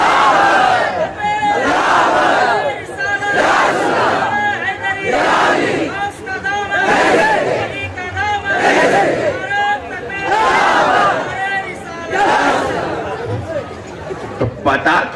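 A religious gathering honouring Gause Azam in Haidrabad: a large crowd loudly chants slogans in repeated, rhythmic bursts that rise and fall, with mixed voices filling the space.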